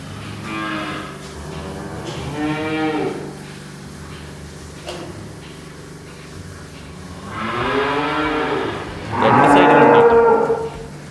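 A cow moos repeatedly at an Ooty farm stay, several long, loud, close lowing calls separated by quiet pauses, with no talk.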